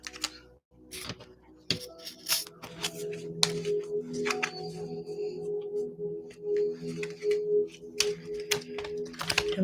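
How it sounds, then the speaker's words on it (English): A deck of cards is riffled and shuffled repeatedly up close, with crisp fluttering bursts and snaps over a steady low hum, and no one speaking. "I'm going to shuffle our deck of cards"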